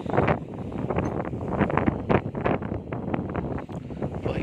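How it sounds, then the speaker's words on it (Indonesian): Strong wind on a beach buffets the microphone in loud, continuous gusts with no voices. "teman-teman bisa dengar sendiri suara anginnya sangat kencang sekali di sini"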